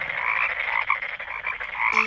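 Frogs croaking in a Korean children's audio Bible story of the plague of frogs in Egypt, a dense, continuous chorus of raspy croaks, steady and close, with no talking.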